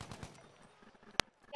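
In Battlefield, a Tommy gun fires a quick burst of three rapid shots right at the start. The shots are faint and distant, then a quiet stretch follows with a single sharp click.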